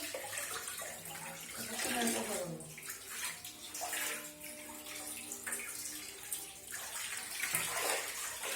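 Dishes being washed by hand with a cloth under running tap water, a steady close splashing rush with clinks of utensils, while people talk over it.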